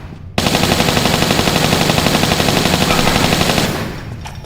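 Rapid automatic gunfire from the Tomb Raider III video game, set in the South Pacific, starts abruptly and rattles on loud and steady for about three seconds before tapering off.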